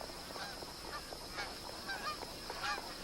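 Geese honk repeatedly in a scattered chorus at a billabong, faint and somewhat distant, over a steady hiss of background noise.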